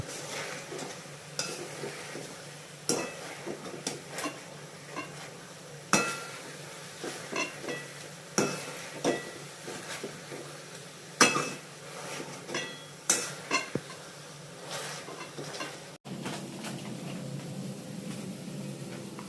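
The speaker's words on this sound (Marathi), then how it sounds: "आता आपण हा कांदा थोडासा स्मॅशरने थोडासा बारीक करून घेऊया." Onion for pav bhaji being mashed in a pan with a masher makes irregular dull knocks and scrapes over a soft sizzle, ending in a steadier frying hiss.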